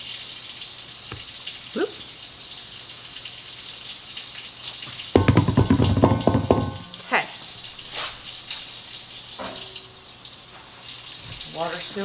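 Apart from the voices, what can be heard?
water running from a faucet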